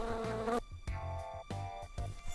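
A housefly buzzes close by in short, loud, droning bursts that stop and restart several times, with nothing else heard.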